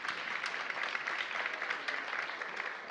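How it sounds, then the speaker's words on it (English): A breakfast audience applauding council chairman Phil Mendelson, a soft, continuous wash of many hands clapping at a distance. "Give him a big round of applause right here in the front"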